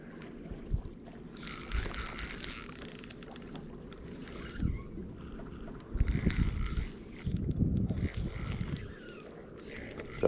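Wind buffets a boat on a lake during bass fishing, a steady rushing roar with rumbling gusts, mixed with mechanical clicks and ratcheting from fishing reel gear, no speech.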